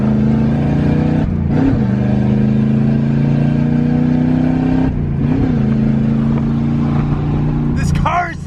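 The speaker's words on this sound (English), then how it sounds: "This car is so loud!" A Corvette with no exhaust revs loudly and close by, its engine droning hard with two brief dips as the throttle blips, ending in a short squeal; people talk over it.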